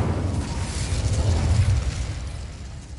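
Incendio fire spell cast in Hogwarts Legacy on PS5, a loud rumbling whoosh of flame that swells over about three seconds and then eases off, with no voices.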